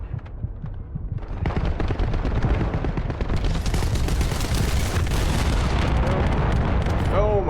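Dense, continuous gunfire and booming blasts from the video game The First Descendant, rapid overlapping shots building into a loud barrage that fills the whole stretch.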